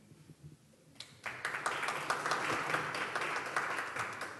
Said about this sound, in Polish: Zastanawiam się, jak odczytywać Państwa oklaski